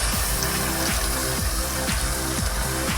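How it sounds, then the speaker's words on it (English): Cold water runs steadily from a kitchen sink tap while pumpkin seeds are rinsed, a constant, close rushing hiss with faint rhythmic low thumps underneath and no talking. "we're just going to turn on the cold water through the..."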